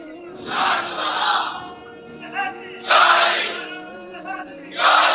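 A religious congregation gathered for a Badr day commemoration shouts slogans in unison, with loud collective bursts separated by pauses and a lone voice leading in between.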